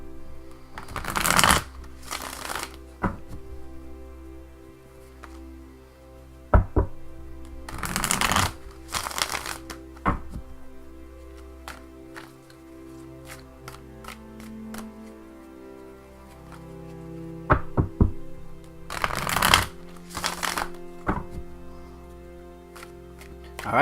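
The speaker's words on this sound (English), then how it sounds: "give me just a moment to shuffle the cards" Tarot cards riffle-shuffled in three quick bursts, with quieter handling, taps and clicks of the deck between them, close up and alone.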